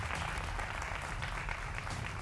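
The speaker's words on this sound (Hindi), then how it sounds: "जोरदार तालियों के साथ अभिनंदन करिए हमारे युवा" Studio audience applause welcomes guests on a televised debate show, a dense, steady clapping that fills the room from start to end.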